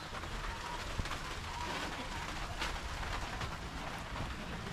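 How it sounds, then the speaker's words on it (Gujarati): Rain falls steadily in a broad, even hiss of drops during an unseasonal Gujarat downpour with wind, a faint tap standing out here and there. "કેટલો વરસાદ આવે"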